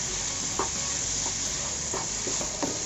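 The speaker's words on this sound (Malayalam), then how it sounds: "എന്നിട്ട് ഹൈ ഫ്ലെയിമിൽ തന്നെ നമുക്കിതൊന്ന് ഫ്രൈ ആക്കി എടുക്കണം." Kerala-style spicy beef fry with coconut pieces and black pepper is stir-fried in a pan on high flame, producing a continuous loud sizzle broken by regular scraping stirs, with no talking.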